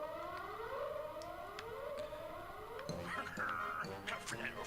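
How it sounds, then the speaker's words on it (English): Civil defense sirens wail in repeated rising sweeps in the Black Bird shoot'em up video game as towers are destroyed before a boss battle, steady and loud, with a few sharp game effects near the end. "Once you destroy all the towers, then these sirens start going off"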